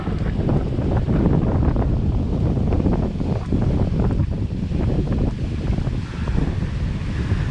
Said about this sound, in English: you can see those waves breaking